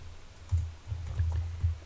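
Fingers type on a computer keyboard in a short, uneven run of soft, dull keystrokes, close and fairly quiet, with no speech.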